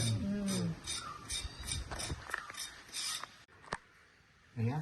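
Cinnamon bark being shaved from a stick with a blade, a run of rough rasping scrapes in uneven strokes, close and fairly faint, with a brief voice sound at the start and end.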